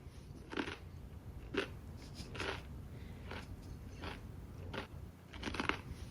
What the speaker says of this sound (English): she walked in with the camera videoing it to proof that how loud I chewed